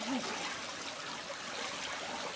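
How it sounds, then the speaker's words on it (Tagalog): Water trickles steadily from a man-made waterfall feature at a pool party in Nicosia, Cyprus, a continuous hissing splash at moderate level throughout, with no clear talk over it. "Wala namang bundok, pero may tubig na lumalabas."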